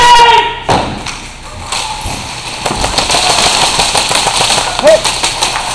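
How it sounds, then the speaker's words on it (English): An airsoft grenade bursts with a sharp, loud thud during an indoor close-quarters airsoft game, followed by a dense clatter of rapid cracks and taps that runs on for several seconds, with a voice briefly heard. "Grenade!"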